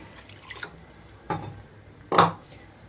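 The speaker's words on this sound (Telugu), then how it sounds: "అలాగే ఇందులోనే ఇంకొక కప్ వరకు వాటర్ కూడా వేస్తున్నాను." About a cup of water poured into a pan of ground masala paste for a stuffed tindora curry, heard as a few short splashing bursts, the last one loudest, against a quiet kitchen background.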